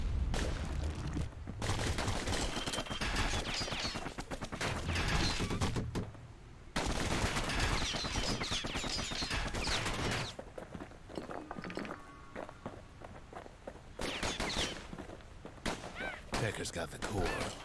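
Dual slinger pistols fire repeatedly in the video game Bastion, dense bursts of gunshots in several long volleys with brief gaps, loud and close, with a narrator's voice talking over parts of it.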